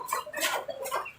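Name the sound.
chickens clucking at backyard chicken farm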